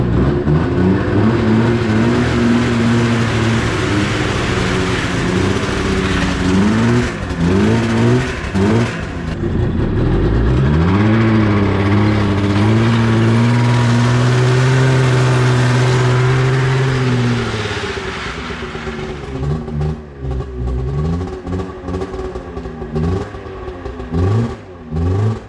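A Yamaha Exciter snowmobile engine that needs tuning revs loudly and unevenly, surging up and down and refusing to settle into a steady idle, close by and with no voices.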